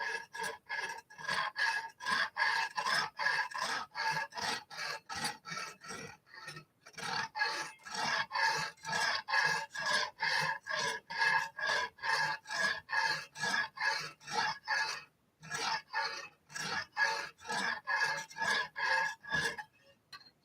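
Knife blade worked on a Lansky sharpener in a garage, a close, rhythmic rasping of strokes back and forth over the stone, steady runs of repeated strokes broken by two brief pauses, with no talk.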